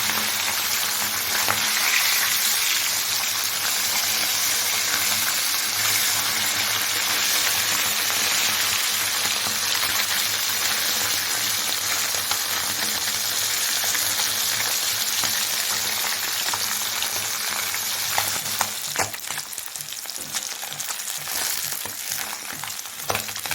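Bata fish frying in hot oil, a steady dense sizzle running unbroken throughout with occasional scraping and clinking near the end, no voices.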